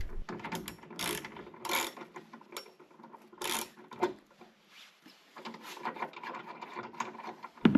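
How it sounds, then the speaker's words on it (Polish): A ratchet wrench unscrews the lower bolt of a hood gas-strut bracket on a Kia Sportage, giving close, repeated bursts of rapid metallic clicking with short pauses between strokes. "Wykręcam teraz dolną śrubę"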